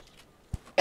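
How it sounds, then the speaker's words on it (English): A single short cough sounds faint and distant from the microphone, followed by a louder, closer burst at the very end. "Sorry, I moved the mic away to cough."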